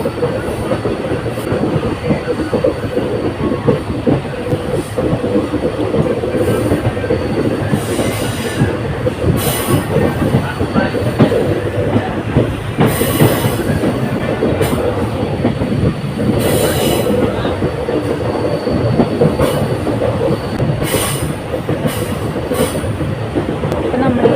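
Steady loud rumble of a train rolling along rails on the Sengottai route to Madurai, with a continuous rattle and occasional squeals from the wheels, heard from inside the carriage.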